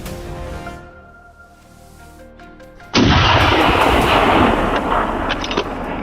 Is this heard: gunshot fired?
yes